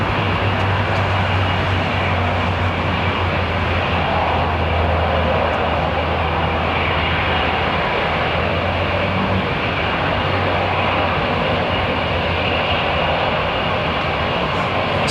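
A jet airliner powered by GE90-115 engines at London Heathrow Airport gives off a steady, loud engine roar with a low droning hum underneath, continuous and unbroken across the whole stretch, no voices present.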